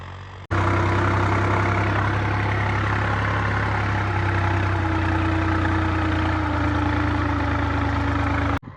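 A Holland 3630 tractor's diesel engine runs steadily at idle, a loud, close, low droning rumble that starts abruptly and holds an even pitch before cutting off near the end, with no talking.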